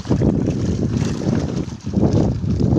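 Strong wind buffets the microphone in a continuous low roar, loud and gusty, with a brief lull before rushing back up.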